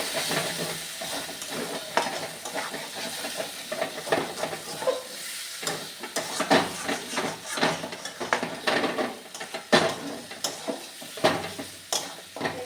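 Spices with tomato puree, tomato sauce and salt frying in a pan, a steady close sizzle broken by repeated scraping stirs and spatula clinks in an irregular rhythm, with no talk.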